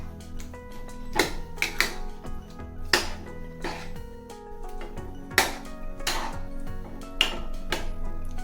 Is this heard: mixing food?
yes